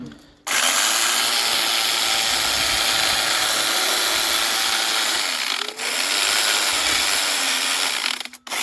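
Handheld motorised cutting tool, an angle grinder used as a wood-cutting motor, slicing through wood with a steady loud whine for about eight seconds, a brief dip near the middle and a cutoff at the end.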